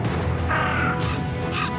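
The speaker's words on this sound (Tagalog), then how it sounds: "Masyado pang maraming uwak ang nasa paligid." Crows cawing nearby, several harsh calls in quick succession, clear and fairly loud with no talking.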